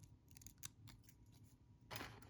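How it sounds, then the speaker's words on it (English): Scissors snip peacock sword feathers off the stem for fly tying, giving a few faint, close, crisp cuts separated by short pauses, with a slightly louder snip at the end. "I'm gonna cut 5 or 6 swords off the stem."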